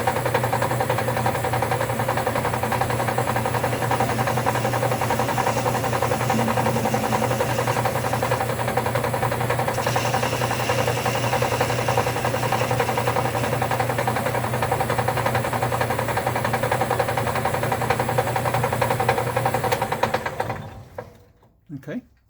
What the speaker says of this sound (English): Go ahead and fire up the lathe